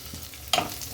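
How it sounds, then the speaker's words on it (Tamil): Sliced onions sauté in ghee and oil in a kadai with bay leaf, cinnamon and cardamom, a soft steady sizzle broken by two sharp scraping stirs close by. "வெங்காயத்தை நல்லா வதக்கிக்கலாம்."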